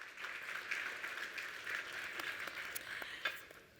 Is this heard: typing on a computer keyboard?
no